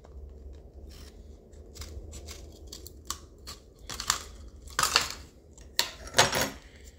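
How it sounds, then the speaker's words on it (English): Scissors cut a strip of plastic during an Echo piston installation with thrust washers. A series of quiet, crisp snips and crinkles come close up and build to several sharper cuts near the end, with no talking. "Cut a strip of plastic roughly as wide as your wrist pin,"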